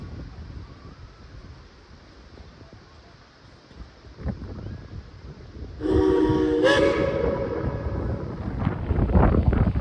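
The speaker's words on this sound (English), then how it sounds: "the engineer blew another one bites the dust on the whistle" A Shay steam locomotive's whistle blown by the engineer on a West Virginia excursion line, starting suddenly and loud as a sustained multi-tone blast that holds for several seconds over rumbling train and wind noise.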